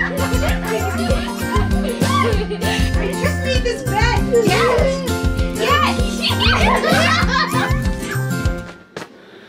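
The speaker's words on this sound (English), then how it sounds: "If you hear my children in the background, it's because they've all lost their minds." Children shrieking, chattering and laughing in a lively, busy room, with tinkling toy sounds and steady noisy activity throughout.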